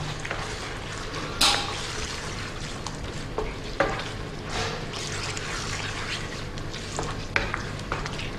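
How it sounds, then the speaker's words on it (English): Chicken tikka masala curry being stirred in a pan with chopped coriander and spring onion: a soft, continuous simmer with occasional sharp clicks and scrapes of a utensil, close and moderately quiet. "Give that a stir."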